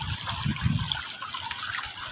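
Clear water flowing over stones in a small river, a steady close trickling and burbling stream with no voices.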